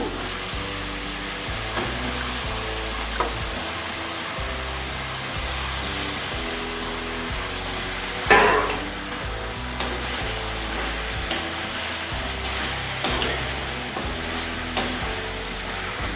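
Steady, loud sizzling of chicken pieces frying in a pan, with occasional utensil clinks and one sharp knock partway through.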